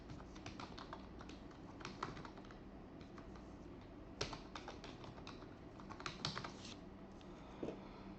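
Soft, irregular keystrokes on a computer keyboard enter a password, with clusters of quiet clicks and a few louder taps, faint and close, with no talk.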